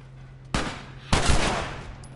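Two loud gunshots from The Last of Us, a close sharp blast followed half a second later by a second, longer-ringing shot, with a low hum underneath.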